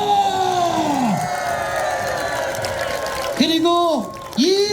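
A festival crowd shouting and cheering at a commemorative naval victory celebration, a sustained roar under loud amplified voices that rise and fall over the scene.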